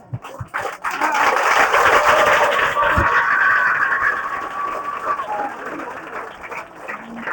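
A church congregation claps together in a dense burst of applause lasting a few seconds, then fades, with a voice talking around it.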